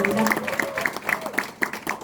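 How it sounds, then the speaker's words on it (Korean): Crowd clapping in a campaign office at a party members' meeting, welcoming a candidate; brisk applause mixed with raised voices and cheering, fairly close and loud over the brief stretch. "여러분 큰 박수로"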